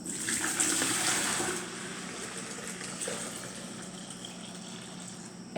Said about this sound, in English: I'm going to take this and I'm going to pour it into a large container that I can utilize to pour into the jars.